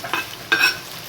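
Food sautéing in a pan for a Malaysian-style yu fish curry, with two short bursts of sizzling and stirring against a soft background hiss.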